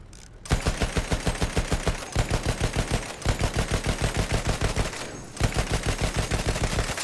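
Rapid machine-gun fire from the Battlefield 1 Heligoland Bight map rattles in long, loud, close bursts with only short gaps between them, and no voices.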